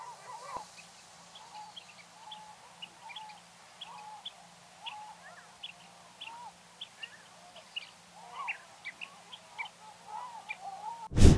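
Distant Eurasian oystercatchers, a flock of thirteen on the shore, give short, repeated piping calls scattered over a quiet background with a low steady hum, ending in a brief loud bump.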